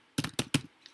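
Three quick, crisp keystrokes on a computer keyboard, typing a command, close and evenly spaced within a second, then a faint trailing tap.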